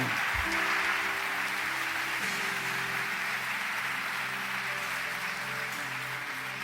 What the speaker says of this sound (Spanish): Por eso, demos un aplauso.